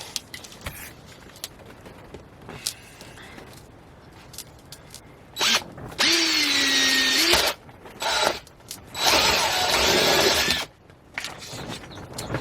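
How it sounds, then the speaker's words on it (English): A power drill whirs in several short bursts, boring a hole halfway up a dried birdhouse gourd, its motor pitch rising and steadying as it bores in, with quiet handling noises between runs. "So I'm going to go about halfway up and we're going to drill our hole."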